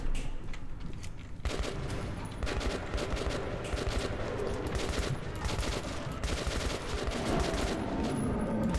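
AK rifle fire in Metro 2033 Redux, rapid automatic bursts repeating through the whole stretch, dense and close, layered over steady game background noise.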